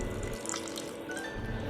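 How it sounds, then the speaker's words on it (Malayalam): Water poured into egg Manchurian gravy in a pan, a steady close splashing and trickling stream that runs through the whole short moment without speech. "അതിനായിട്ട് അല്പം വെള്ളം ഒഴിച്ചു കൊടുക്കാം."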